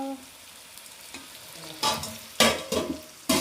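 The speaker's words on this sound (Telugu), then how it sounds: "ఇదే మా స్పెషల్ చికెన్ ఫ్రై, నల్ల ఫ్రై." Chicken fry, a dark-roasted home-style dish, sizzles steadily in a pan while a spoon stirs it in several loud scraping bursts over the second half.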